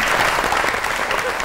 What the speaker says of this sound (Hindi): बहुत ही तालियां होनी चाहिए शेर मियां राज साहब के लिए